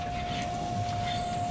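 Inside an HST high speed train on its final scheduled run from Cardiff to Paddington, a steady low rumble and constant hum fill the carriage without a break.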